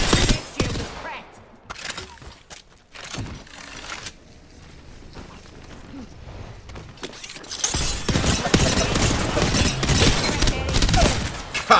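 A gun fires in a video game as dense rapid bursts, heavy at the start, then a quieter stretch before sustained loud volleys return near the end.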